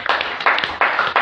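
A church congregation claps for Jesus in a quick burst of several loud, close handclaps in an uneven rhythm.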